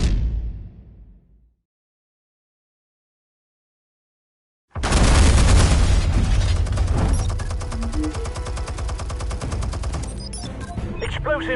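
Explosives and gunfire in the Batman Telltale video game: a fading burst, a few seconds of silence, then a sudden loud blast followed by sustained, dense rattling gunfire and clattering.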